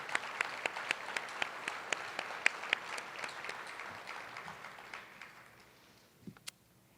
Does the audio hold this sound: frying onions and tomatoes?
no